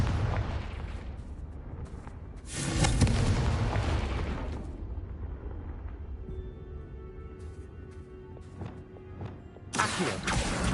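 A Confringo fire spell bursts loudly in a Hogwarts video game, with a sharp explosive blast around the third second and another near the end, separated by a low rumbling, crackling tail.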